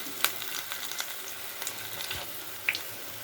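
Minapa punukulu, urad dal fritters, frying in oil over a low flame give a steady close sizzle and hiss, with a few sharp pops breaking through.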